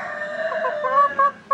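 Chicken clucking close by, a run of loud, bright clucks and calls that rise in bursts toward the end, with no talk over it.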